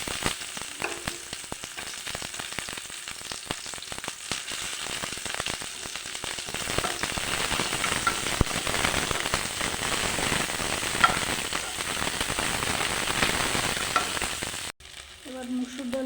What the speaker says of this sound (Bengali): চিকেনে পেঁয়াজ দিচ্ছি।